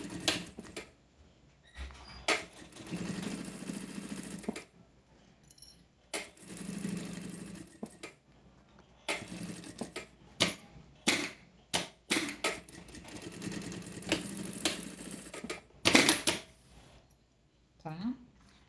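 A sewing machine stitching a seam on a fabric handbag, running in short bursts of fast mechanical whirring separated by pauses, close up, with someone speaking Portuguese between the runs.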